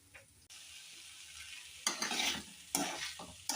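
Vegetables sauté in a hot pan with a steady sizzle, while a utensil stirs and scrapes through them in a few louder bursts, close and with no one talking.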